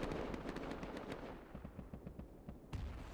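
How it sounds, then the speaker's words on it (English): An incoming fire barrage artillery strike in the survival game Rust during a 4v4 tournament, a fast run of sharp distant impacts thinning out, then one more crack near the end. "Here's the fire barrage."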